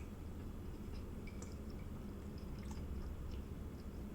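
Soft, close chewing of a bite of gyudon, beef over rice topped with caramelized onions, with faint moist clicks and squelches over a steady low room hum and no talking.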